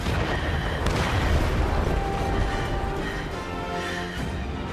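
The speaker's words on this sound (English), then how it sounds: "And here you'll notice the explosion right away of the planes." Planes blow up in the Marvel's Iron Man VR video game, giving a loud booming blast with a rumbling, crackling tail that rolls on for several seconds.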